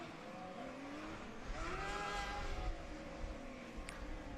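A Formula SAE combustion race car during an endurance event drives by at a distance, its engine note rising and falling faintly under open-air background noise.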